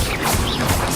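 Incendio fire spell cast in the video game Hogwarts Legacy: a loud, dense magical crash with a whooshing sweep, filling the whole second.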